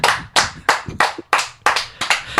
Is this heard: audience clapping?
yes